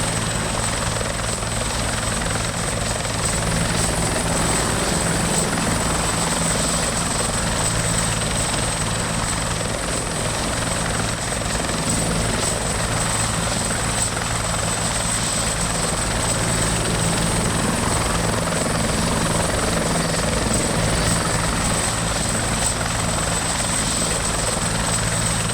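A helicopter in the ArmA 2 video game flies toward an airfield, its rotor and engine making a loud, steady drone that continues alone throughout, with a faint high whine on top.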